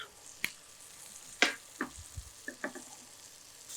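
Oil and butter crackle and pop in a hot pan, scattered sharp sizzling spits over a quiet hiss, with no voices.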